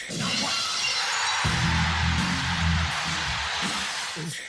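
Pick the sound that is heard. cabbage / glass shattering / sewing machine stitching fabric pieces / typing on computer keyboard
glass shattering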